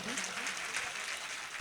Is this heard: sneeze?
no